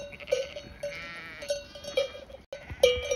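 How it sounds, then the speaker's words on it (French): Several sheep give short, repeated bleats or bell-like calls at a steady pace, moderately close, over a quiet outdoor background. "C'est les moutons là."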